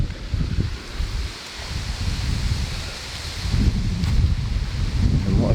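Wind gusting through trees at a campsite on the Ridgeway, a steady outdoor rush with rustling leaves and low buffeting against the microphone, swelling stronger toward the end.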